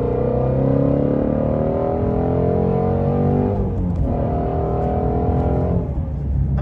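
Shelby GT350R engine roaring hard under acceleration, its pitch climbing steadily before dropping at a gear shift near the middle and again near the end, loud and close throughout with a faint voice underneath.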